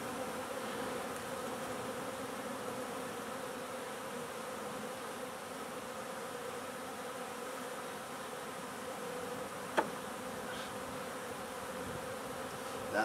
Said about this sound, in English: Come on, bees, you gotta move.